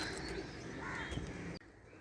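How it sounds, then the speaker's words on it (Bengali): Pigeons gather on a house rooftop in the morning, giving faint, scattered bird calls over a steady outdoor background hum, with no one speaking. "ছাদে কত পায়রা এসছে দেখুন"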